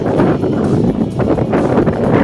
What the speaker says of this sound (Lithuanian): Šįkart teks su vėju pakovoti.